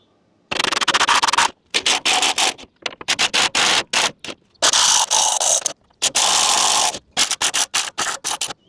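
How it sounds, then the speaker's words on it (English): A bolt on a Mazda Miata subframe being unbolted with a ratchet: rapid clicking bursts of the pawl separated by short pauses, close and fairly loud, with scraping mechanical texture and no talk. "now we could unbolt the subframe bolt."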